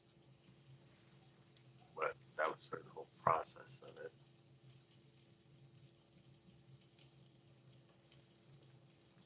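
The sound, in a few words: crickets chirping, ambient nature sound from phone app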